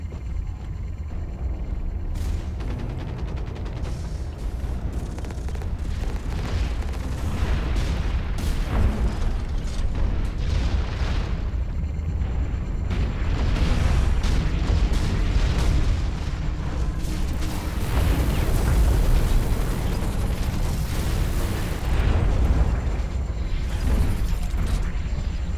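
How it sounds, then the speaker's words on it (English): Mech guns fire and shells explode in Hawken, a continuous heavy barrage of booms and mechanical thuds forming a loud, dense rumble throughout. "I just like shooting the guns and watching them go"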